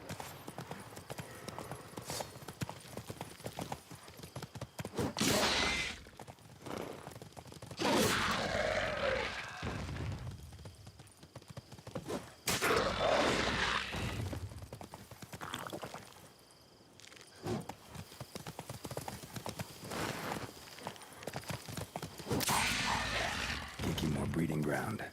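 Horse hooves clip-clopping in The Witcher 3, a quick repeated galloping beat that comes and goes in bursts with brief lulls, mixed with game noise and a voice speaking over it.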